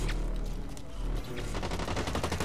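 Rapid automatic gunfire in the shooter game Blacklight Retribution, bursts of close, loud shots rattling in quick succession, with a brief lull before another dense burst.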